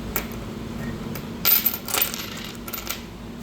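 Coins dropping at a laundromat in Bangkok, several bright metallic clinks and jingles tumbling in quick bursts, close and fairly loud over a faint room hum, with no talking.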